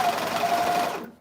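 Cover stitch sewing machine running steadily at speed, a continuous close motor whir that stops abruptly near the end.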